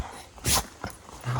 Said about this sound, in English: this dog really took a liking to me